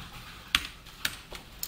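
Python code being typed on a computer keyboard: a few sharp, close keystrokes at an uneven pace, quiet and alone.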